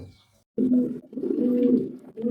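Close, loud pigeon cooing in low throaty rolls at a fancy pigeon farm in Ahammedpur, Natore, two or three drawn-out coos after a brief quiet start, with no talking.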